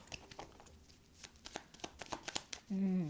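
Oracle cards are shuffled and drawn, giving a run of crisp riffling snaps and soft card slaps at close range, followed by a brief spoken voice at the end.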